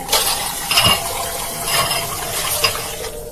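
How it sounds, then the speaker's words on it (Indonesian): A plate clinks and taps in a kitchen: several sharp, bright ceramic knocks spaced irregularly over a few seconds, fairly close and alone without voices. "Terdengar dari dapur suara piring diketok dan ada yang memainkan."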